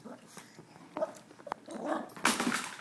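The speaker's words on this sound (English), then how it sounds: "Dog." A dog at home makes short whimpers and soft growly vocal bursts at close range, with a louder burst near the end, mixed with people talking nearby.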